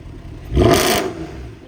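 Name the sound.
car exhaust throttle blips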